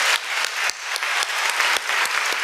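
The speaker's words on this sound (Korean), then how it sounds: "격려의 박수를 부탁드리겠습니다" An audience at a church pastoral conference applauds scholarship recipients, a dense, loud, sustained wash of clapping with a few sharper individual claps standing out.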